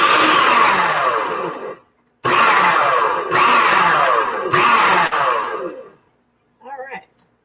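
A blender churns a thick drink in long loud bursts, stopping and restarting several times with short gaps, then a brief lighter whir at the end.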